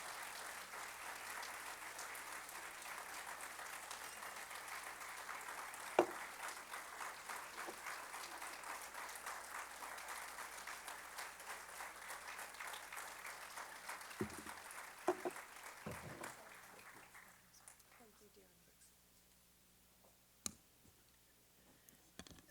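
Audience applause greets keynote speaker Rita Cosby at a 2013 academic festival, sustained clapping from a sizable crowd that gradually thins and fades to scattered claps.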